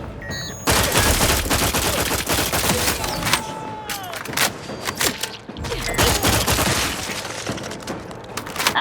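Sustained gunfire from a firefight in The Outer Worlds 2, dense rapid bursts and heavy blasts running almost continuously for several seconds, loud and close, with brief dips in the barrage.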